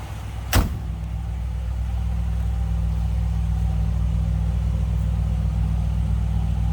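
A 1957 Ford Fairlane 500 Skyliner idles steadily with a low, smooth rumble through a stock exhaust, heard from behind the car, after a single sharp click near the start.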